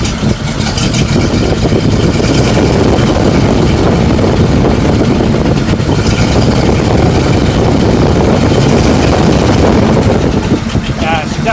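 A 1941 Chrysler flathead coupe engine runs loud and steady as the throttle is opened, a rough, continuous roar that holds for the whole stretch with no break.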